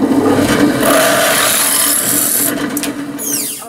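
A drill bores out a hole in a Gauge 1 live steam scratch-built part, opened up step by step with progressively larger bits. Steady whirring and grinding runs close and loud throughout, easing slightly toward the end with a few brief squeaks.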